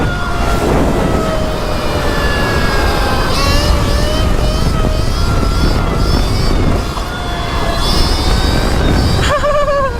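An 80-horsepower electric bike motor run at half throttle, a loud continuous whine with shifting tones under heavy wind roar, steady throughout with a brief dip near the end.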